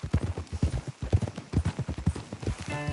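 Rapid hoof clip-clops from several horses in Red Dead Redemption 2, a steady trotting rhythm close by, with a brief whinny-like tone near the end.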